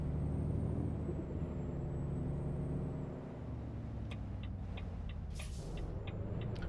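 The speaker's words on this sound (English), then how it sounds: "J-brake doesn't sound too bad." Volvo VNL truck engine brake in American Truck Simulator, a steady low rumbling drone that runs throughout, with faint air-brake-like hisses near the end.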